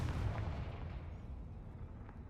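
A deep, rumbling blast from a Confringo explosion spell in a Harry Potter video game, heavy low boom that swells at once and then rolls away slowly over a couple of seconds.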